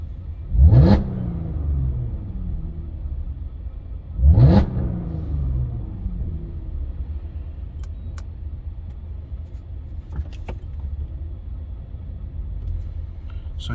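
A car with a straight-pipe exhaust and the exhaust open, giving two loud rising revs a few seconds apart, each falling back to a low rumbling idle that carries on between and after them.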